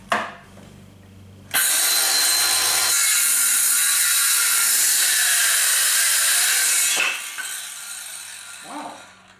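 Ryobi 18-volt 5.5-inch cordless circular saw ripping through a 2x6 board: motor spins up sharply, a loud continuous cut for about five seconds, then the blade winds down, close and alone.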